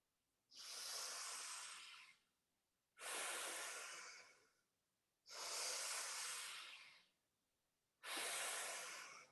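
Four slow, deep breaths in a guided belly-breathing practice, each a long airy rush lasting about a second and a half with brief pauses between, close and fairly quiet, with no talking.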